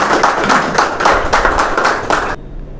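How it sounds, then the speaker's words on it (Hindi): At an honoring ceremony for the national disabled cricket team, a crowd claps in loud, pulsing waves that stop abruptly after about two and a half seconds. "एक बार फिर से इन्हें तालियों के साथ स्वागत करें।"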